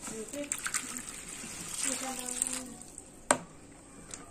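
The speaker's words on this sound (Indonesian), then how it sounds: "Kita masukkan dulu airnya" Water pours into a mixing bowl for sweet martabak batter, a faint, brief splashing pour followed by a sharp clink near the end, with no speech.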